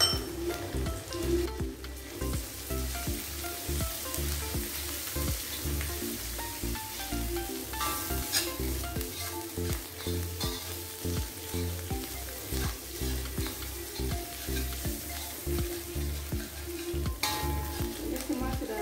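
Ground chili sizzles and crackles in a hot wok while being stirred, with steady frying hiss and rhythmic scraping strokes throughout, close and moderately loud, no talking.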